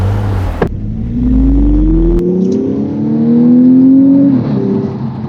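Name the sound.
sports car engine accelerating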